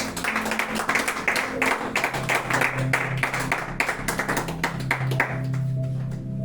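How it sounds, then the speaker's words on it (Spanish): A church congregation claps loudly and steadily during a Monday service, a dense run of close hand claps that gradually thins out toward the end. "Vamos a darle un fuerte aplauso al que vive."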